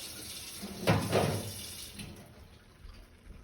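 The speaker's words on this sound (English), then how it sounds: "Add some water." Water pours into a dye pan in a short gushing burst, a soft splash that fades into a quiet simmering hiss.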